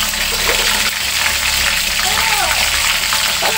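Turmeric frying in a pan while chicken rica-rica with basil is cooked, giving a steady, close hiss and crackle throughout, with a voice talking over the sizzle.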